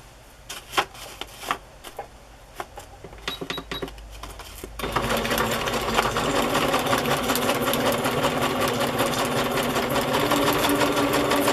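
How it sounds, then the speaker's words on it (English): A few short bursts of mechanical clatter, then a sewing machine runs continuously at a fast, even stitching rhythm, close and clear. "I'm wondering how my sewing machine will handle that"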